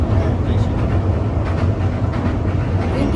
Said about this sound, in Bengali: 6:54-তে এয়ারপোর্ট স্টেশন থেকে ছেড়ে দিল ট্রেনটি।